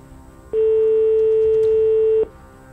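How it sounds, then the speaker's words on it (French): A single telephone ring tone during a radio prize draw call, a loud steady electronic tone lasting almost two seconds, with quiet background before and after. "Première sonnerie."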